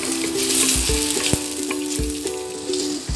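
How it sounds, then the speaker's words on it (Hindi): Onions frying with garlic and ginger toward light browning for a desi chicken salan, a bright, steady sizzle up close, broken by a few soft knocks and stirring clatters. "अब इसमें हम प्याज डाल देंगे, इनको हल्का ब्राउन करेंगे।"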